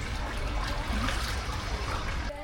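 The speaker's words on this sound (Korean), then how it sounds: "찬물에 발을 담그며 분위기를 좀 풀고" Cold water runs and splashes around feet soaking in a pool at a Vietnamese bathhouse, a steady, close rush of trickling water lasting throughout.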